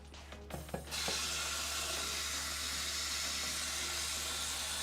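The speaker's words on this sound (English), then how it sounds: "Let's get a little water." Tap water runs into a sink or container at a pottery studio, a steady hissing rush that starts after a few knocks and clatters and continues evenly, fairly close, with no talking.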